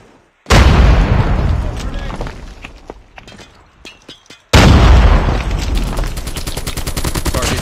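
Grenade explosions in Call of Duty Mobile, two sudden loud blasts, each followed by a long rumbling decay, with scattered gunshots between them and in-game voice callouts heard faintly.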